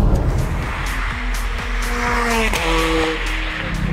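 A Ferrari 430 Scuderia engine revs close by, its pitch climbing and dropping through several sharp rises and falls over a steady low rumble.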